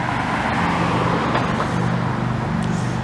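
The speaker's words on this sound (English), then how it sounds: "there's a really hot car coming up here on the right" A car drives along Rue Bouchard in Dorval, Montreal, a broad engine and tire roar that stays loud and close through the whole stretch over steady street noise.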